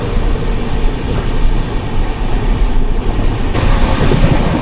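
The Mangala Lakshadweep Express running through the Chambal region, a loud continuous rumble of wheels and carriage with rattling, clattering texture and a brief shift in tone near the end, no talking.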